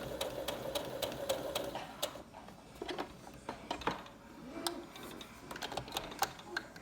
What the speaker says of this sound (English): we're going to sew over that piece of elastic to secure it